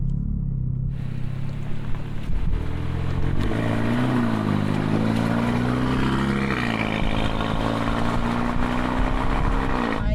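A Renault Mégane RS Trophy drives off, its engine rumbling close by and then revving up in a rising, throaty pull as the car gathers speed.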